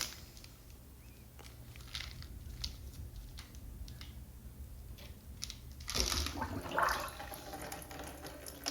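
Water trickling in a toilet bowl with a clogged siphon jet, a weak flush building into a louder gurgling rush about two thirds through.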